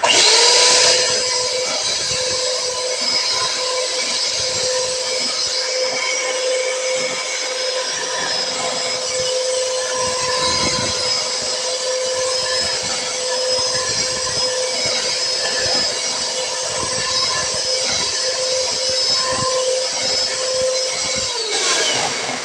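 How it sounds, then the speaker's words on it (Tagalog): An electric hand mixer whipping all-purpose cream whirs loudly and steadily for over twenty seconds, a continuous motor hum with faint rattling and no talking. "meron ako dito hand mixer. So, i-mix lang natin."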